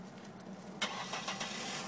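A parked car's engine cranks and catches with a short burst, then settles into a quiet idle, close by and without talk.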